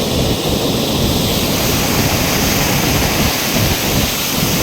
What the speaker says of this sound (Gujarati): જોઈ શકો છો મિત્રો પાણી ચાલુ છે, બારી ચાલુ છે, નહેરની બારી ખુલ્લી છે, નદીમાં પાણી જવા છે